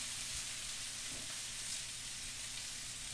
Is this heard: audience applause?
no